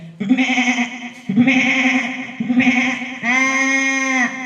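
A human voice mimics a sheep bleating four times in a row at a residential school mimicry performance. Each long, wavering baa is loud and close, with short breaks between them.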